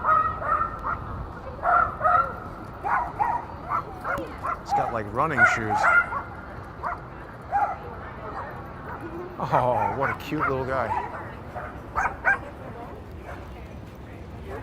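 A small Yorkie wearing little shoes on a New York City street gives repeated close, high yips and whimpering barks, with people chatting over and between the bursts.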